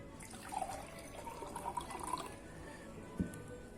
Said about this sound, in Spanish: Lo primero que vamos a hacer es poner un poco del agua que tiene mucha sal